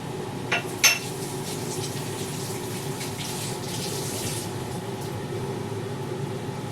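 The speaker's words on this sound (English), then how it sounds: "Let me go rinse my hands off." Water runs from a kitchen tap as hands are rinsed under it, a steady close splashing stream with a couple of brief knocks near the start and no talking.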